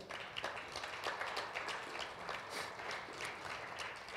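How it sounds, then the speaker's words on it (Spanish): A church congregation applauds steadily during a Sunday service, with dense, even clapping from many hands filling the room for the whole stretch without a break. "¿Qué les parece si dan un fuerte aplauso al Señor?"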